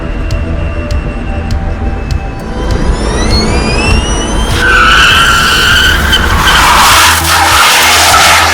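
Superformance MKIII-E electric car spinning its tires in burnouts and donuts, a long loud tire squeal that builds and grows harsher, with a high electric whine rising in pitch.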